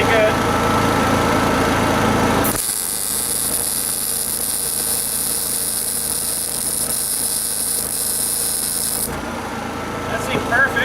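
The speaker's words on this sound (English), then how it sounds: "This should weld it together pretty good." A Miller 212 MIG welder runs off a Honda 7000 W generator, welding steel between 14 gauge and 1/8 inch thick. The arc gives a sustained crackling hiss for several seconds over the generator's constant engine hum.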